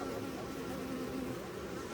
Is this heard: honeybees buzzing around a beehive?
yes